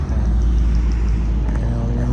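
Tractor driving during a road test, a continuous heavy low engine drone with a steady mechanical hum, fairly loud and close, with faint talk under it.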